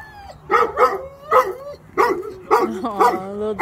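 A small, worried dog gives a run of short, high-pitched yipping barks mixed with whiny whimpers, six or seven bursts in irregular rhythm, close and fairly loud, with no talk over it.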